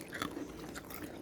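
Crank Caliente chips crunch in a few quick, crisp bites close to the mouth, quiet and alone with no talking.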